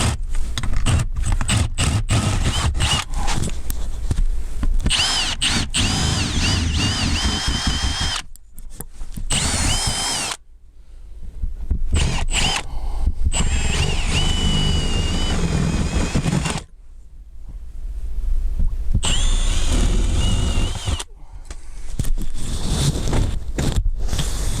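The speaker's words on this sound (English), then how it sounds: "we're going to drill some holes that will basically end up connecting the dots with the Sawzall" A power drill fitted with a 5/8-inch spade bit bores a series of holes while fitting a bathroom exhaust fan, loud grinding whirs in several long bursts separated by brief pauses.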